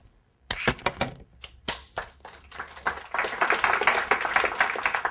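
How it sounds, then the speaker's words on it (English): An audience at an evening talk on MySQL scalability claps, starting with a few scattered sharp claps that swell into dense, continuous applause. "I got to clap before I start"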